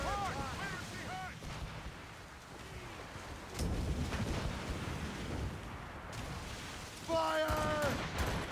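Ship cannons boom in repeated heavy volleys during a naval battle in Assassin's Creed Rogue, with rumbling blasts spread across the clip while crew voices shout over the gunfire.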